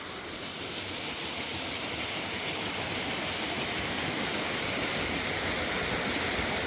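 A water curtain pours steadily into a 39-degree thermal pool, giving a continuous, even rush of falling water that fills the whole clip without pause, fairly close and with no voices.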